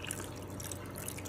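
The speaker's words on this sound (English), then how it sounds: "I'm gonna add half a cup of water to get the" Half a cup of water poured onto pureed tamarind seeds, a brief quiet trickle and splash close by.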